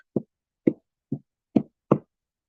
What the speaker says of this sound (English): This is making my table jiggle, making noise over here.